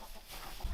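A hen clucks briefly near an off-grid cabin during spring work, a short low call near the end of an otherwise quiet moment with no talk.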